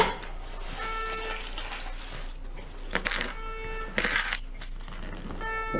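Keys pulled from a pocket jangle in several short metallic bursts of bright ringing, close and moderately loud, with quieter rustling between them and no talk.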